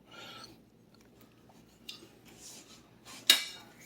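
Reuben dip being mixed in a bowl with a wooden spurtle: a few scattered scraping and clinking strokes, fairly faint and close, with one sharper knock near the end.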